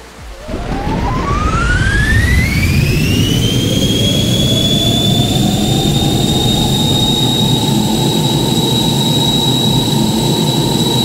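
Jet airliner engine spooling up for takeoff in a mobile 3D robot-pilot flight game, a loud steady roar with a whine that climbs in pitch over the first few seconds and then holds, continuous and alone.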